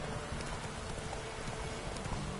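A horse's hooves clip-clop in a steady, muffled rhythm as it is ridden in The Witcher 3: Wild Hunt, under a dense wash of ambient game sound.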